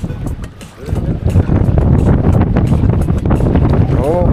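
Strong wind buffets the microphone out on a kayak on the water, a loud roaring rush that gusts throughout, with faint splashes and a brief voice near the end.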